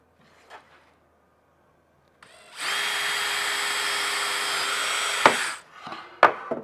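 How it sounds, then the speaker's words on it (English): A power drill with a small tapered bit whirs steadily for about three seconds, boring a small hole for a door latch, with a few clicks and handling knocks before and after. "I take one of these small tapered bits. This kind of gets the hole ready."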